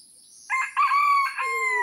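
A rooster crows once in a jungle setting, a clear, loud, drawn-out cock-a-doodle-doo rising and then trailing off over about a second and a half, alone with no talk.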